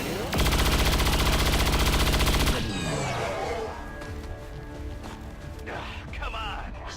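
Sustained rapid automatic gunfire from a soldier shooting in XCOM 2, a loud dense burst lasting a couple of seconds, followed by mechanical clatter and rumbling game effects, with a voice talking over parts of it.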